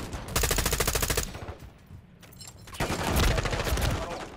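Rapid automatic gunfire in the multiplayer shooter Call of Duty MW3 comes in two loud, sustained bursts of evenly spaced shots separated by a short lull, with no voices over it.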